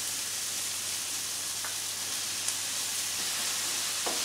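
Fish pieces sizzle steadily in a wide paella pan while cooking paella Valenciana, a constant bright hiss of frying with a few faint clicks, close and even, no talking.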